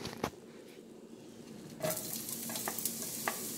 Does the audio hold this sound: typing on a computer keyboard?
no